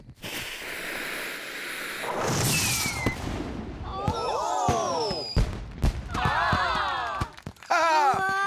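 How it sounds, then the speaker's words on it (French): Whooshing launches and crackling pops with descending whistling tones, several bursts in quick succession, loud and close like a giant fireworks display in an animated cartoon. "Et maintenant, place au feu d'artifice géant."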